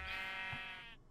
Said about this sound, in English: I rounded up some sheep too